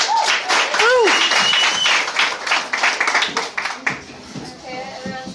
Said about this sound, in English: let's give Callie a nice round of applause here